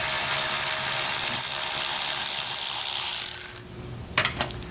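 A ratchet with a 10mm socket turns bolts on a 2022 Jeep Cherokee, giving a dense, loud run of rapid clicking for a few seconds that then stops, leaving a few sharp metallic knocks.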